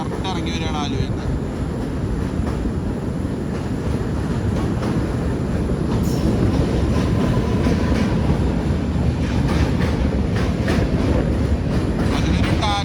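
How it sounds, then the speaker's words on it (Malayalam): The Tatanagar Express rolls past on the rails at Ernakulam Junction, a loud sustained rumble with rhythmic clickety-clack of wheels over joints and a brief horn-like tone midway. "ആലുവയിൽ നിന്ന് നമ്മുടെ ടാറ്റാനഗർ എക്സ്പ്രസ് ഇറങ്ങി വരുന്നുണ്ട് കേട്ടോ"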